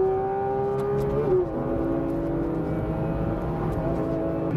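Porsche 992 GT3 RS on a race track, its engine holding a steady high note, dropping briefly as if on a shift or lift, then carrying on at constant pitch throughout with no talking.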